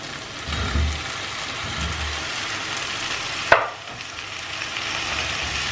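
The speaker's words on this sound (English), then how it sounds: "we are going to add the chopped tomatoes" Chopped tomatoes go into a pan of sizzling egg stir fry, with steady frying hiss, a soft shuffle of stirring and a single sharp clack of a utensil against the pan midway.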